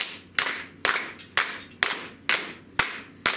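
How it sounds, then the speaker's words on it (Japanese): Children at a primary school juggling workshop clap their hands together in steady unison, seven sharp claps spaced evenly about half a second apart, with no talking. "これ手拍子みんなやってきて、"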